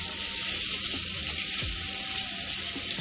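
Sausage browning in hot oil in a pot for a seafood boil with crab legs, lobster and shrimp, a steady close-up sizzle and crackle with no talking.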